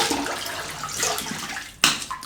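Running tap water rinsing a polished Rockwell 6S safety razor, a splashy hiss that rises briefly with a sharp burst near the end.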